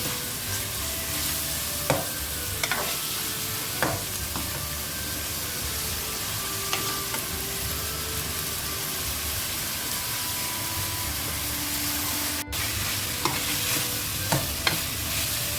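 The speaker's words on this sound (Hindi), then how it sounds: "थोड़ा सा हम इसको और भूनेंगे।" Goat liver masala frying and being stirred in a pan for a Bakra Eid kaleji dish: steady close sizzle with repeated scraping stirs throughout, no talking.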